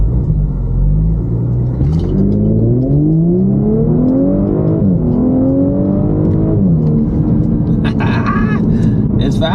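An Audi S4 with a stage 1 tune from 034 Motorsport launches from a standstill, its engine rumbling loudly and rising in pitch through several gear shifts, with brief higher whirs near the end.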